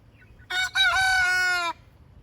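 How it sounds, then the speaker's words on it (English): A rooster crows once, loud and close, a single long rising call that holds steady before cutting off, with quiet background before and after. "He's gotten good at his crow, huh?"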